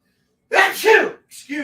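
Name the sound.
sneeze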